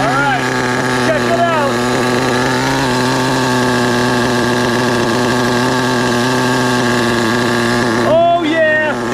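An HPI Savage XL nitro RC truck with a K5.9 engine idles with a steady buzzing drone, its pitch wavering briefly near the start and end.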